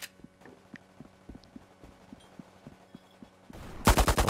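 UMP45 submachine gun fire in the Roblox game Riotfall on PS5: a steady run of evenly spaced, fairly faint shots near the player. The run ends in a loud, dense burst of rapid blasts.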